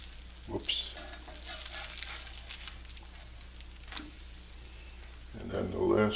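Semolina buttermilk pancakes sizzling in a frying pan as they are flipped with a spatula, a steady close sizzle with scraping clicks and soft thumps from the turns.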